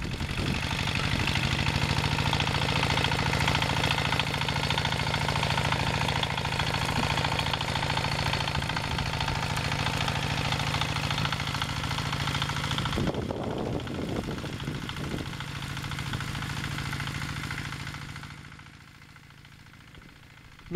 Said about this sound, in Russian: Ну и буду его убирать с помощью своего мотоблока и мини-трактора моего кума.